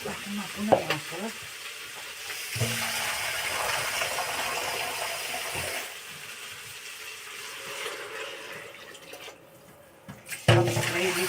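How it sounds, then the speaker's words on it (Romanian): Water pours steadily into a cooking pot for cauliflower soup after tomato paste goes in, a continuous rushing splash lasting several seconds, close by, with a few clanks before it starts and after it ends. "Acum punem apă."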